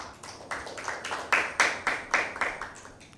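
Rhythmic applause for Team B at a school Bible quiz, a steady run of evenly spaced claps from a group, fairly close and clear with no talk over it.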